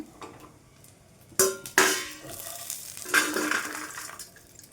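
Green chillies and peanuts fry in a pan for a chutney, giving a steady faint sizzle broken by a few sharp clinks and scraping stirs of a utensil against the pan.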